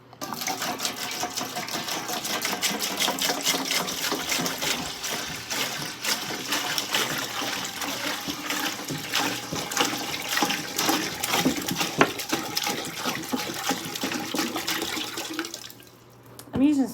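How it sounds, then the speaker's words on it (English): Spring water streams steadily from a jug onto potted orchids, a continuous near pouring and splashing that runs almost the whole time before tapering off at the end; a voice speaks briefly over it. "Using spring water."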